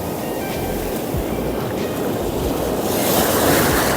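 Sea surf breaking steadily on a beach during shore fishing for sea bass, a continuous close wash of waves with wind rumble on the mic that swells louder near the end.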